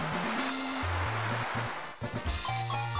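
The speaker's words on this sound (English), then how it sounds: "Oh no, you're gonna use Water Sport." Water Sport move effect in Pokémon Emerald, a steady rushing, splashing water wash layered over stepped chiptune music notes, lasting a few seconds.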